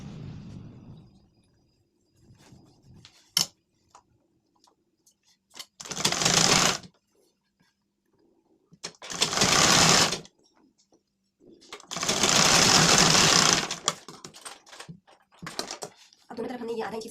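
A sewing machine stitches half-inch seams along both sides of a lined blouse in short, loud, close bursts of whirring separated by quiet pauses, with soft handling clicks between runs.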